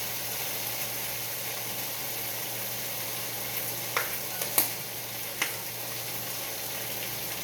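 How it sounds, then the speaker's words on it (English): Chili with New Mexico chili powder sizzles steadily in a pan while being stirred, with a few sharp scraping clicks of the spoon standing out near the middle, no voices. "Let's give it a little stir so we don't burn."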